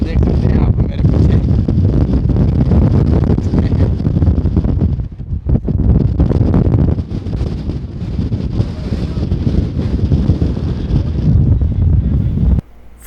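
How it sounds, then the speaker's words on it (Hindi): Strong wind roars continuously across an exposed mountaintop at Yanardag, Azerbaijan, buffeting the microphone with loud, broadband gusts that dip briefly midway and cut off near the end. "हवा बहुत तेज़ है, तो हवा की वजह से शोर बहुत आ रहा होगा।"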